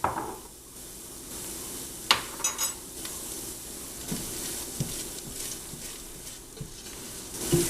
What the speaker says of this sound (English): Start mixing that in.